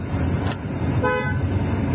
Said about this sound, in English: Tooting the horn from out in the parking lot is not going to get too much attention